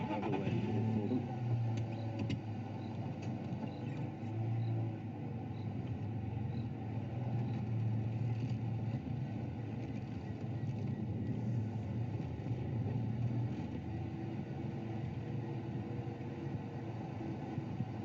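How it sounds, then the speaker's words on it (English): A safari vehicle's engine drones steadily throughout, a close, continuous rumble with slight shifts in revving and some wind, no talk over it. "There's another vehicle coming, so I'm just going to move out of the way for them."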